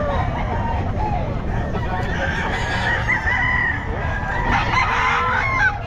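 A rooster (stag) at the Bocaue pet market crows loudly and close, its call rising and stretching, amid clucking fowl and busy market chatter.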